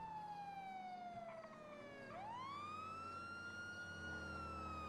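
Ambulance siren wailing in the video game GTA 5, a loud wavering electronic tone that dips low and then sweeps back up before holding steady.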